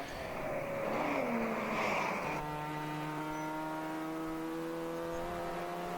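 A race car engine on track at a ChampCar Endurance Series road-course race, loud roaring acceleration, then a steady droning pitch as the car holds speed at a distance.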